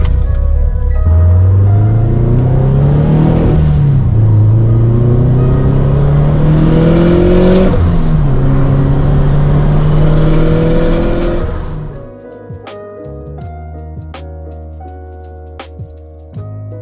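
A car accelerating along a road, its engine revving up through several gear changes with a steady loud drone before easing off into quieter road noise near the end.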